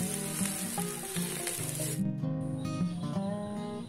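Spicy fried rice with petai being stir-fried in a pan after soy sauce is added, a constant sizzling hiss under background music with tonal notes, close and steady.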